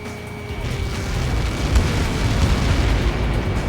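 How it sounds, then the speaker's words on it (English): A massive explosion in the combat flight game Ace Combat 7 rumbles as a sustained, loud, deep roar that swells and lingers without voices over it. "How many got caught in that explosion?"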